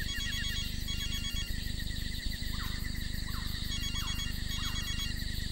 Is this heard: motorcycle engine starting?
no